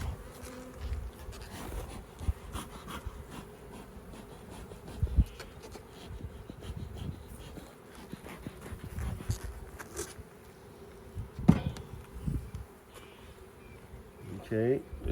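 Honey bees buzz steadily around a swarm trap being opened and smoked, a close, continuous insect drone with occasional handling knocks and brief low talk.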